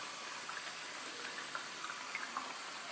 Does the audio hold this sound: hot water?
yes